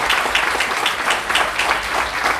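An audience at a community foundation-day gathering in a hall applauds to welcome a speaker, dense steady clapping at close range with a rhythmic swell, loud throughout and without speech.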